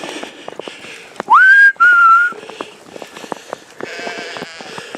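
Sheep bleating among farm livestock during a prolonged winter storm, several short bleats scattered through, with a loud two-part whistle calling them in the middle.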